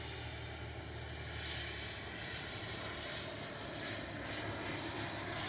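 A radio-controlled F-15 model with twin 64mm electric ducted fans flies steadily after takeoff, a continuous broad whooshing whine that stays fairly loud and even throughout.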